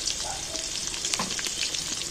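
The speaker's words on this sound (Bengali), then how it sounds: "আমি একটু ভালো করে আলুগুলোকে এই তেলের মধ্যে ভেজে নেব।" Potatoes sizzle and crackle steadily as they fry in hot oil with a pinch of turmeric, a continuous close hiss with small pops and faint stirring, no voices.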